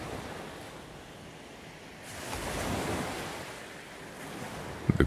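Ocean waves rolling onto a beach, a soft broad wash of surf that swells and recedes over a few seconds, steady and fairly distant with no voices.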